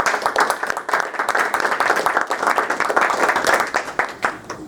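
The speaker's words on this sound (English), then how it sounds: "Let's give Dr. Dhingra a big round of applause." An audience applauds at the end of a question-and-answer session with a doctor, a dense, steady burst of many hands clapping that stays loud and even for several seconds before easing slightly.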